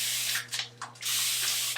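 A handheld spray bottle mists water onto hair during a wash-and-go styling routine, giving several close, hissing bursts of varying length with brief gaps between them and a steady low hum underneath.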